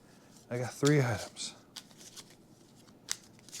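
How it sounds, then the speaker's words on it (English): A deck of cards for the Expeditions board game by Stonemaier Games is shuffled near the mic, crisp riffling bursts and soft card slaps following a voice. "I'm going to go ahead and shuffle Automa's deck here."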